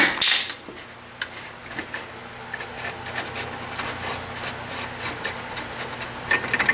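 Metal taps on the big rear wheel bolts of a Honda Magna motorcycle during a chain and sprocket change: sharp, light knocks spaced irregularly, fairly close and moderate in level, with no talk.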